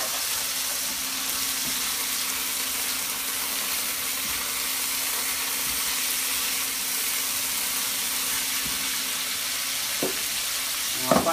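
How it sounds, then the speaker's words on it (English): Garlic fries in a pan alongside peppers and onions for a homemade curry. A steady, even sizzle holds throughout, and a couple of brief utensil knocks sound near the end. "Just going to gently add some garlic."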